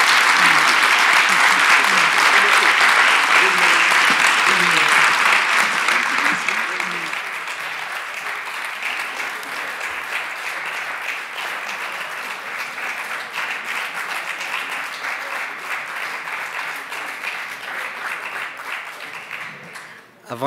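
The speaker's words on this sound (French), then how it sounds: "on peut chaleureusement les applaudir" Sustained applause from a lecture audience after a talk on human rights and identities, loud and dense for several seconds, then easing to steadier, thinner clapping that continues to the end.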